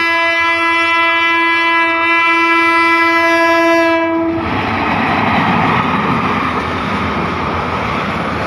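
A train sounds a long, steady horn blast for several seconds, then passes close by with a loud, broad, continuous rumble of carriages rolling along the railway track.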